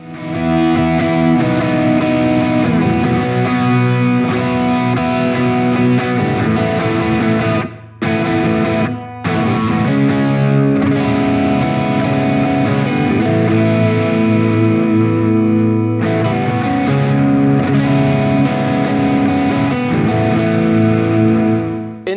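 An Epiphone Joe Bonamassa 1962 Signature ES-335 semi-hollow electric guitar plays loud and continuous with heavy distortion and effects, sustained chords and riffs with two brief gaps, and no voices.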